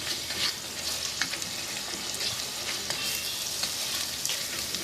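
Ginger garlic paste sautéing in a hot pan for Lahori chickpeas, a steady close sizzle with fine crackling pops running throughout, no voices.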